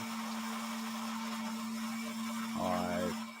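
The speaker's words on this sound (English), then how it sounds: "Let's get my dinky little blender out to play." A small 500ml blender whirs steadily, crushing ice for a rum cocktail, with a constant motor hum and a brief rise in pitch near the end.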